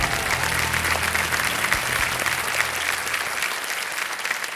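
A TV quiz show studio audience breaks into sustained, even applause, dense and close, holding steady throughout with no break.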